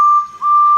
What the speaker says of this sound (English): But Toby's despair was interrupted by an unfamiliar whistle.